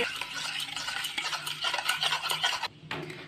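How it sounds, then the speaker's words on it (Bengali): A spoon stirs sugar into curd for wheat-flour biscuit dough, giving a close, continuous wet scraping and swishing that runs steadily and breaks off briefly near the end. "চিনি আর দই খুব ভালো করে মিশিয়ে নিতে হবে এভাবে চামচের সাহায্যে"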